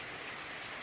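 Rain falls steadily as a dense, even hiss, faint and continuous, with no voices, heard while waiting out a shower on a cycling day.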